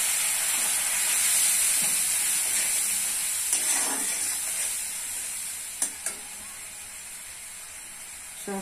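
Water goes into a pan of sizzling bottle gourd greens with turmeric, chili powder, cumin and salt, giving a strong steady hiss that gradually softens, with a couple of sharp utensil clinks near the end.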